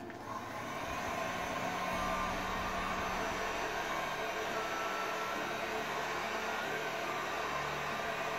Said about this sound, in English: I'll then get the heat gun once again, and then I'll just run it up the length in the middle of the actual blade itself